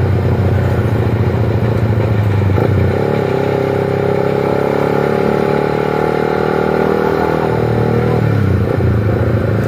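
A Suzuki GSX R150 motorcycle ridden on the road around Bogor drones loudly and steadily, its engine pitch stepping up and holding as it pulls, with heavy wind rumble and no talk.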